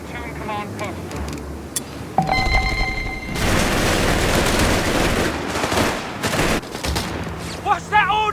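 Game battle gunfire from Company of Heroes 3: bursts of rifle and machine-gun fire with booms in a loud, dense fusillade, and radio-style unit voices speaking over it.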